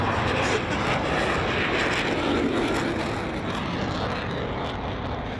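Vintage propeller aircraft engines at a Battle of Britain event, a broad droning roar that stays loud and steady throughout, swelling slightly midway and easing a little toward the end, with no voices heard.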